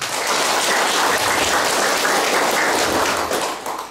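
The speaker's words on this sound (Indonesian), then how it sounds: "Maka mari kita tepuk tangan dulu." A crowd claps for the vice governor at a veterans' office gathering, a loud, steady wash of many hands that sounds close to rain and fades slightly at the end.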